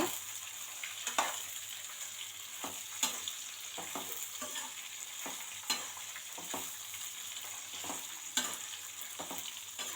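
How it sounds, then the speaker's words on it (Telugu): Dried red chillies and urad dal fry in oil over medium heat while being stirred, giving a steady, even sizzle broken by repeated sharp scrapes and clicks of the spoon against the pan. "ఎండుమిర్చి వేసిన తర్వాత కలుపుకుంటూనే ఉండండి"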